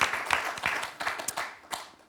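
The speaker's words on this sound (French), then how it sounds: "on peut l'applaudir Christiane pour les encouragements qu'elle vient de donner" An audience in a television quiz show studio gives a short burst of applause, its quick claps fairly faint and fading within about two seconds.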